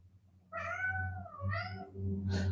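A pet cat gives a drawn-out, squeaky meow followed by a second rising meow, close and clear over a low steady hum, with no talking.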